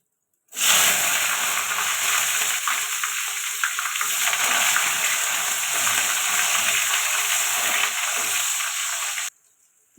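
Onions fry in hot oil in a kadai with bay leaf and five-spice tempering, a continuous loud close sizzle with occasional crackles and stirring, stopping abruptly near the end.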